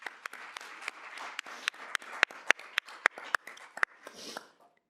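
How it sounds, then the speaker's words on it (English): Applause at a student senate meeting: a sparse room of hands clapping, with loud individual claps popping out over a soft patter before fading out near the end. "Please give them a round of applause."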